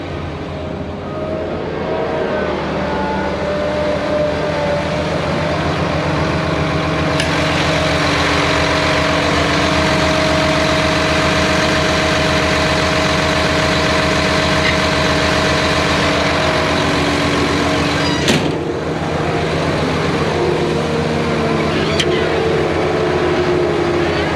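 A Deere 850J crawler dozer engine idling steadily through a test run, a loud, close, constant low rumble with a brief clank or two partway through and no talk.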